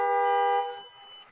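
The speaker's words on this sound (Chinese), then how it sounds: "喇叭很响，电瓶没有问题。" A car horn sounds one steady, loud blast of about half a second that then trails off, used to show the battery still works on a car whose engine has failed.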